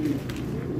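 Pigeons at a meat-pigeon breeding farm give a brief, low, throaty coo, close and moderately loud, with a soft background murmur.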